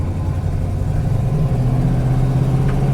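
Inside a 1970 Plymouth Cuda with a 440 Six Pack V8, the engine rumbles deep and loud through a sharp corner. The note swells and eases as the throttle changes, with tire and road noise underneath.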